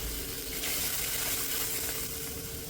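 Water poured into hot oil left in a pan after frying fish, a brief burst of hissing sizzle that rises and then settles into a steady, fairly quiet bubbling.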